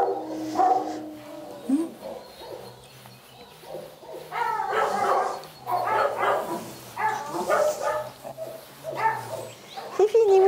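A dog at an animal shelter gives a few short barks and yips amid a woman's close, soothing talk, the animal sounds brief and mixed in with her voice.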